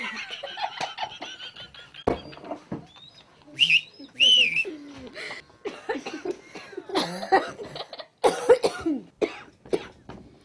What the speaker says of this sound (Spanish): ¿por qué toses tanto?